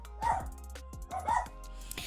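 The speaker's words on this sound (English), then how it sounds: "sorry about the dogs, guys." Dogs in a home bark twice in quick succession, a few loud, close woofs with yippy edges, then a short pause before a softer final yip.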